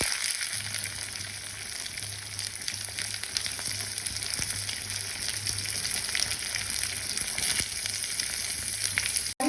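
Onions and mustard seeds fry in hot oil for a South Indian green pumpkin sambar, giving a steady, dense sizzle that holds evenly loud for about nine seconds before cutting off abruptly, with no voices.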